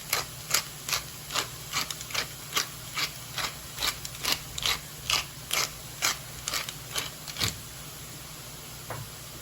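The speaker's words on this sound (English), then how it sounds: "I'm going to season it with some salt and some freshly ground pepper" Pepper mill grinding fresh pepper over softening onions for a yellow pea soup, a steady run of crisp ratcheting clicks, close and fairly loud, about two per second before stopping near the end.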